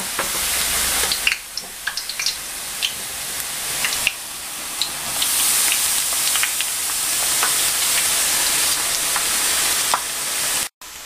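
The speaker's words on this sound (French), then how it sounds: "Allez, on commence la friture des aubergines." Eggplant slices frying in hot oil, a steady broadband sizzle with scattered pops and crackles throughout, loud and close, with no talking.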